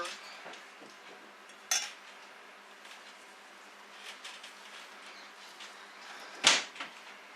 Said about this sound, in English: So you just use a spoon to scoop it out